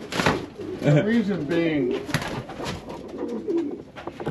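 A pigeon hen coos in a few warbling, throaty phrases close by, while someone talks over and between the calls.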